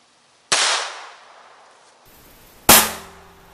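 Two sharp .22 Long Rifle gunshots fired into coffee cans crack out about two seconds apart, each a loud abrupt bang with a short ringing decay, outdoors and otherwise quiet between them.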